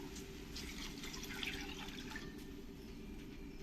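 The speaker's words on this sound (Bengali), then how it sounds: "এবার আমি এর মধ্যে জল দিয়ে দেবো" Water poured into ghugni, a chickpea curry, in a pan: a steady watery trickle and splash that runs unbroken from start to finish, close and moderately loud.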